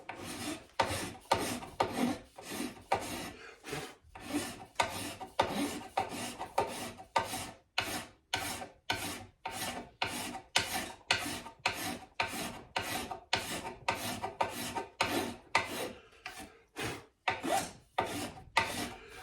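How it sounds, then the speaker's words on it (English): A file works a brass inlay set into wooden winding sticks clamped in a vise, giving steady, evenly paced rasping strokes, close and clear, repeating about once a second with no speech. "so then into the vise. And start filing."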